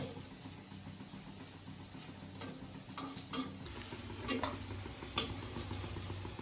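Bora fritters frying in a pan give a quiet, steady sizzle dotted with scattered clicks and small pops, with no one talking.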